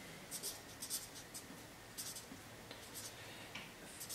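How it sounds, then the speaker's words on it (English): A red pen writing out formulas on paper, its soft scratchy strokes coming in short, quiet bursts with brief pauses between them. "let's switch to our red pen, so we're going to be writing down formulas"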